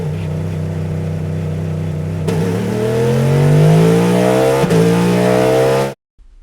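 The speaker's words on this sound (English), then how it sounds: "Sound of a bump start" Car bump start in the iRacing sim: a steady idle-like drone, then a sudden jolt as the engine catches and revs upward in rising pitch, loud and close, cutting off abruptly near the end.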